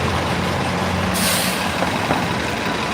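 A city bus in heavy street traffic lets out a sharp hissing burst of air brake, loud and close over a continuous rumble of engines and road noise.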